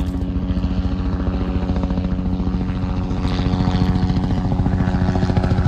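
A helicopter on Chicago's South Side passes fairly close, its rotor throbbing in a steady loud pulse that swells slightly toward the end, with no voices.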